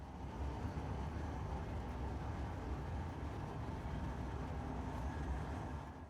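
A train in the video game Wolfenstein II rumbles with a steady, low mechanical roar, a constant, close drone with no breaks.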